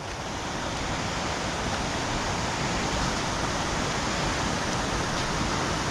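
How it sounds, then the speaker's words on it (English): A waterfall heard from the top at Gayle, a steady, dense rush of falling water filling the scene evenly and loudly throughout, with no talk. "here we are, back at the top of the waterfall"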